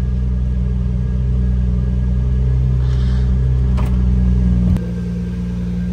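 A Nissan R34 GT-R engine idles after a cold start, a loud, close, steady low rumble that drops to a lower, quieter idle near the end.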